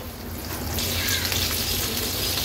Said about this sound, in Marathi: आता जो आपण स्टफ केलेला पापलेट आहे या तेलावर सोडणार आहोत